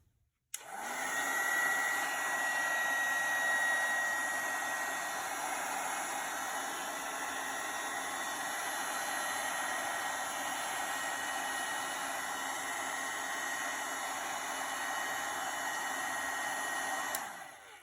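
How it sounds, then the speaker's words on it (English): A heat gun blows steadily while erasing heat-sensitive friction pen marks on a papercraft card, a continuous loud airy roar with a faint whine that runs unbroken for about seventeen seconds, then cuts off. "So I'm going to turn on my heat gun and basically erase those marks."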